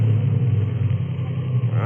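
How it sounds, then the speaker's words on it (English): A car engine in a 1950s radio drama sound effect runs with a low, uneven rumble that chokes and sputters, steady and fairly close throughout the short stretch. "So I choked the car."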